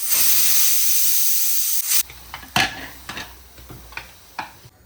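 Pressure cooker cooking mutton with curd releases a loud, steady hiss of steam that cuts off abruptly, followed by a few short clicks and faint kitchen knocks.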